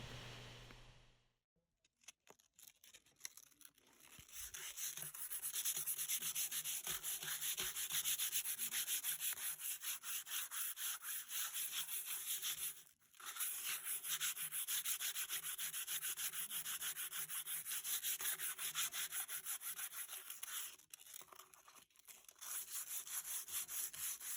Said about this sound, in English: I'm going to a little heavier grit because I want to pull a little more paint off of it.